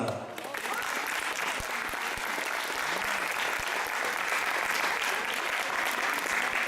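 An evening audience applauds to welcome a singer onto the stage: a full, continuous roar of many hands clapping, steady and enveloping for several seconds, with a faint voice or two in the crowd.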